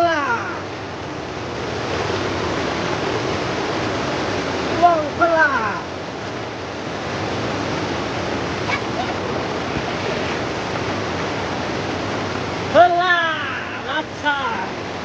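River water flowing, a steady broad rushing roar close by and continuous throughout, with a voice breaking in briefly over it.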